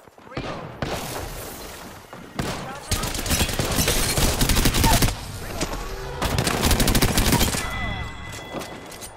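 Bursts of rapid automatic gunfire in the Apex Legends battle royale game, dense loud volleys of shots separated by brief pauses, with impacts and clatter close by.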